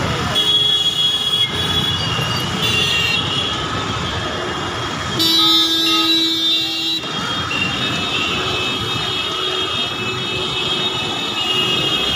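A monorail train in Wadala, Mumbai rumbles past steadily with a high mechanical whine and tonal hum, the pitch shifting midway as it moves by, no talking.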